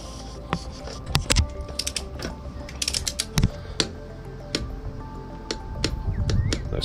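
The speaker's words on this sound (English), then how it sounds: "I'm gonna nip this up using the torque wrench" A torque wrench tightens the rear axle bolt on a motorcycle, giving a run of close, sharp ratcheting clicks and small metallic creaks in irregular bursts, with no talking.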